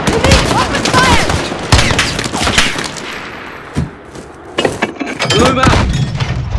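Dense bursts of gunfire fill the Call of Duty: Modern Warfare (2019) embassy mission, rapid rifle and machine-gun fire close by that eases briefly in the middle, under shouted voices.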